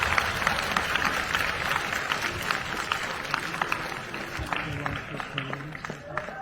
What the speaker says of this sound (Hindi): जोरदार तालियों से उनका फिर से